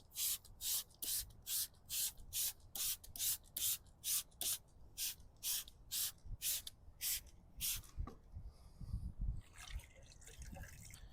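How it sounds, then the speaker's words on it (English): A Detail Factory tire brush scrubs a car tire in fast, regular strokes, about twenty crisp bristle swishes in a row, then wet rubbing and dripping sounds at close range. "we're just gonna scrub the tire down with the Detail Factory tire brush"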